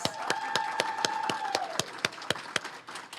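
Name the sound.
audience applause for Haley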